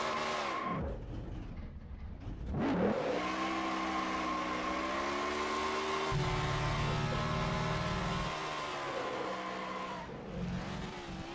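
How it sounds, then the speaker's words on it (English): Race car doing burnouts in the NR2003 racing video game, a continuous loud engine roar with revving pitch shifts and sustained tire squeal, filling the whole stretch without talk. "And then we do some burnouts."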